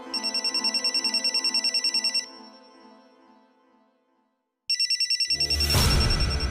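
A telephone rings in a bright, rapid trilling bell pattern, one long ring, then a pause, then a second ring that cuts off as a clunk or rustle takes over, nearby and clear with no talk.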